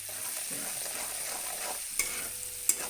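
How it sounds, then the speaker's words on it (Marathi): Coriander fries in hot oil for a village-style soybean dish, making a close, steady sizzle with stirring. Two sharp utensil clinks near the end stand out against the pan. "हे आपल्याला धनिया मुद्दाम तेलावर टाकायचं"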